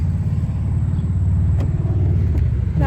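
A car drives along with a continuous low engine rumble and road noise from inside the cabin, steady and fairly loud, with a few faint clicks on top and no talking.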